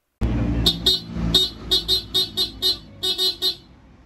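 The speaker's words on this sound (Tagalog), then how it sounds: "Pinasabay ko nga pala kay kuya yung busina at saka yung ilaw." A loud motorcycle horn honks in a rapid string of about ten short, evenly spaced toots after one longer opening blast, close and clear.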